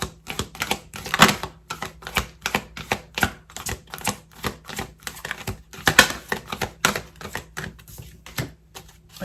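Tarot cards being shuffled by hand, a dense run of crisp riffling clicks and soft slaps in quick bursts, close up and alone with no talking.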